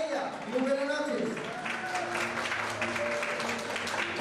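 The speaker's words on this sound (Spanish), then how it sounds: "pido un fuerte aplauso para ella" Guests at a school graduation ceremony in Lima applaud an honoree, sustained clapping under voices talking nearby throughout.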